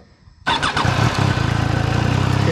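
A Triumph 660 Daytona sport motorcycle engine cranks and catches at once, then settles into a loud, steady, throbbing idle close by, slightly rattly.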